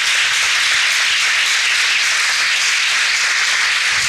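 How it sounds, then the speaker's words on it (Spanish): Steady, dense applause from a church congregation praising the Lord, loud and continuous throughout with no voices over it. "Un aplauso al Señor"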